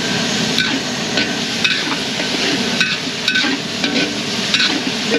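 Chicken breast sizzles in a hot pan with garlic and onion, a steady frying hiss broken by sharp knocks and scrapes of a utensil against the pan; no one speaks.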